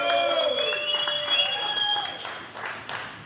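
Shop visitors at a cigar store clap and cheer for a couple who drove a long way, a short burst of applause and whoops mixed with a loud voice and some ringing tones, fading as it goes.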